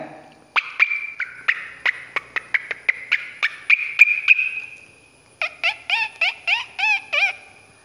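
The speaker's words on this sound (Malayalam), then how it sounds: "പക്ഷികളിങ്ങനെ പാടുന്നുണ്ട്" A bird calls up close in a quick series of sharp repeated notes, pauses, then gives a run of warbling, downward-sliding calls.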